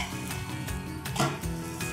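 A spinach palak paratha frying in oil on a pan gives a steady close sizzle, with faint scraping and a few light utensil knocks against the pan.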